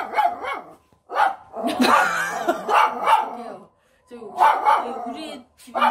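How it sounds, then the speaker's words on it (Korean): A pet dog barks indoors at home in repeated loud, close bursts. A person talks between the barks. "저희 집 강아지가 헛것을 봅니다."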